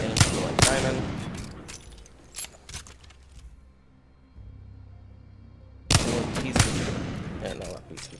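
Peacekeeper shotgun in Apex Legends firing heavy booming blasts, a cluster of close loud shots at the start, a quiet pause with low hum, then another burst of blasts, with someone talking over it.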